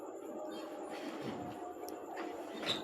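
Barendra Express train pulling into Hili railway station, heard from on board as a low rumble of wheels and carriage noise with occasional faint squeals and clanks, fairly quiet and steady.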